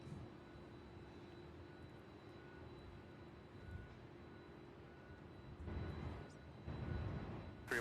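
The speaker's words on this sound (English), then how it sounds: "That MD-11 is going to take off." MD-11 jet aircraft on the runway at Louisville airport preparing to take off, a distant steady engine rumble and whine that swells louder toward the end, with no talk.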